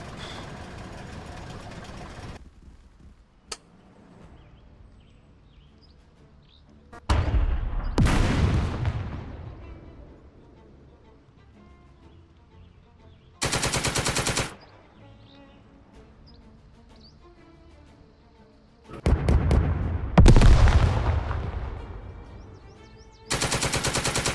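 Bursts of gunfire and artillery in the hex-based squad tactics game Second Front, loud rattling volleys and booming blasts separated by stretches of quiet, faint engine idling.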